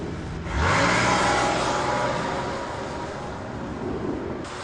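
A car accelerates on a road test, its engine surging in from near silence and revving up with a rising whir, then holding a steady, fairly loud drone for several seconds.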